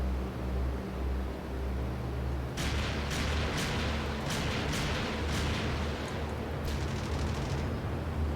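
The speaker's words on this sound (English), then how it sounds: "Here comes some AA at me" Anti-aircraft fire in the combat flight game IL-2 Great Battles, aimed at a P-38J in a winter setting: a string of sharp cracks and bursts over a steady loud engine drone, with no talk.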